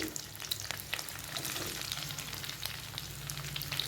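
Capsicum being sautéed in a pan for an onion curry gravy, a soft continuous sizzle and frying crackle with occasional stirring scrapes, close and quiet, no talking.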